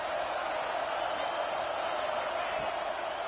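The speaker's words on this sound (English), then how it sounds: "Decibels rising as the crowd gets behind this defense on 3rd down" A football stadium crowd roars steadily on a third-down defensive stand, a dense, constant wall of noise with no distinct voices standing out.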